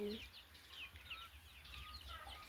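Soft clucks and chirps from a group of half-grown chicks, quiet and scattered over a low steady hum.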